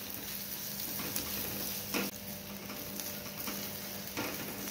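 Ginger and spice masala sizzle steadily in a hot pan, a close, continuous frying hiss broken by a few sharp scraping strokes as the mixture is stirred.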